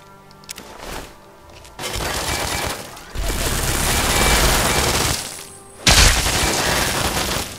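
Automated turrets in the Fallout 3 Operation Anchorage game fire long, loud bursts of machine-gun fire, close and continuous for several seconds with brief breaks between bursts, and no voices are heard.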